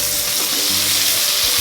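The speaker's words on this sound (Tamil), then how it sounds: "இப்போ பாருங்க, வெங்காயம் நல்லா வதங்கிடுச்சு. இதோட 2 தக்காளியும் நீட்டாக கட் பண்ணி ஆட் பண்ணிக்கோங்க." Onions and tomatoes sautéing in a pan for mushroom biryani, a loud, continuous sizzle and frying hiss with faint stirring.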